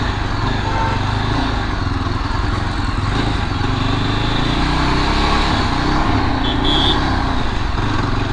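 A 2022 Yezdi Adventure motorcycle engine idling at around 2000 rpm, a loud, close, steady rumbling thrum that holds evenly throughout with no talk.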